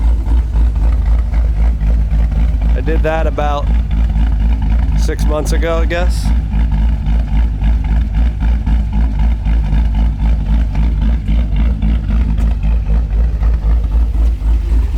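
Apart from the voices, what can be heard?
cammed Chevrolet Corvette V8 engine idling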